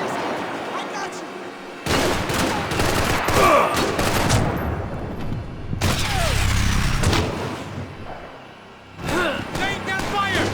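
Heavy gunfire in Max Payne 3, with bursts of shots and booming fusillades in several loud waves, broken by short lulls and mixed with shouted voices.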